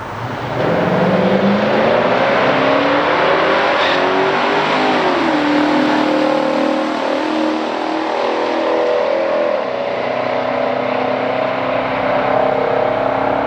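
A 1971 Chevrolet Chevelle 454 convertible drag races a 1969 Oldsmobile Cutlass, with loud V8 engines revving and accelerating hard down the strip in a sustained, rising roar with no talk.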